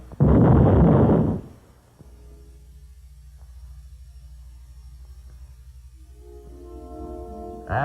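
A World War II tank destroyer gun fires at a moving target on a range, giving one loud, close blast that decays into a long low rumble before a lingering tail of engine noise.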